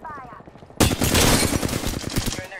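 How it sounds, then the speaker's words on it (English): Sudden bursts of rapid automatic gunfire in the video game Apex Legends, loud and close, rattling on for about two seconds after a quieter start. "I'm taking fire."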